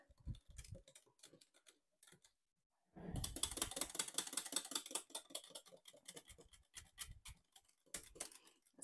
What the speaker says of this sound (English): We're going to just mix this up.